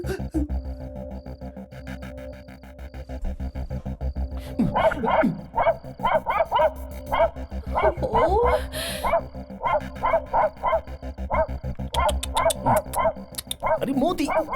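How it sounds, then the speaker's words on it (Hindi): A dog barks and yips repeatedly at close range, excited bursts with some whimpering mixed in, under steady background music and ambience, with people talking over it in places. "ये कुत्ता वहां देखकर भौंक क्यों रहा है?"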